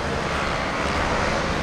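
A racing 125cc scooter on a 12-inch wheel race track gives a loud, continuous engine drone as the throttle opens. The whine holds steady over a short burst, with no voices.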